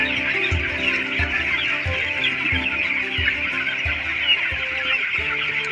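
Poultry-farm chickens raised for meat cluck in a loud, dense chorus, with repeated low clucks over a constant high chattering of many birds, with no talk.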